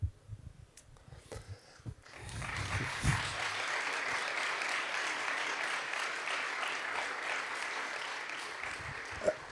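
Audience applause after a conference talk on digital Ukraine: a few scattered claps at first, then dense clapping swells and holds steadily for several seconds at moderate level, with a faint voice briefly at the start.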